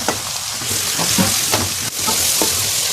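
Garlic frying with browned onions in a pot as the masala for chicken with arvi gets started, a continuous close crackling sizzle broken by a few stirring scrapes, with no voice heard.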